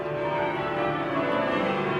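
Church bells of Great St Mary's, Cambridge, ring changes in a steady, layered tone that fills the air at a moderate distance with no voices.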